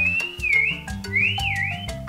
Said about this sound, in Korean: 부르듯이 휘파람 부는 거야.